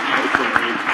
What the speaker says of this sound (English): Clap for them, guys.